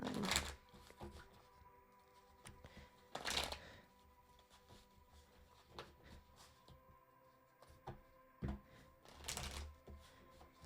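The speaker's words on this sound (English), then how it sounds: "Let me shuffle this one more time." A deck of cards is shuffled for a tarot-style card reading: a few brisk, papery riffling bursts near the start, middle and end, with quiet shuffling and handling between them. No one speaks.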